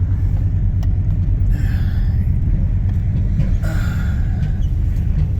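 A vehicle rolls slowly through a salvage yard full of classic cars in Great Bend, Kansas, its engine and tyres making a continuous close, low rumble, with a couple of faint passing squeaks or rattles over it.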